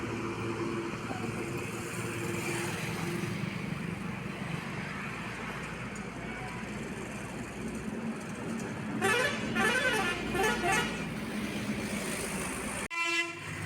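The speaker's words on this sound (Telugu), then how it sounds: "ఇప్పుడు వస్తున్న bus Sathupalli depot super luxury service Hyderabad to Sathupalli" Super luxury bus of the Sathupally depot pulling into Kalluru bus station, a steady heavy engine rumble with a burst of horn honks near the end, no talk.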